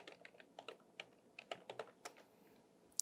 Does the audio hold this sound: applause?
no